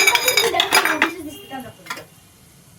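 A spoon clinking and scraping in a pan while green food colour is stirred into a coconut barfi mixture, several quick metallic strokes that fade out, with someone talking.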